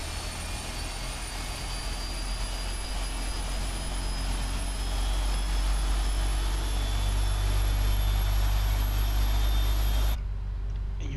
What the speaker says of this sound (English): So you guys can see the engine spooling up.